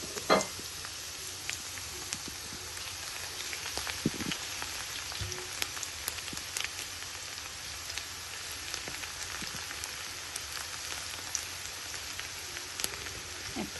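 Garlic cloves fry in oil, a constant soft crackling sizzle like light rain with scattered small pops, fairly quiet and uninterrupted.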